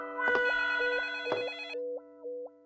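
A telephone rings in loud bursts, two long trilling rings followed by shorter repeated electronic tones, close and clear with no talking over it.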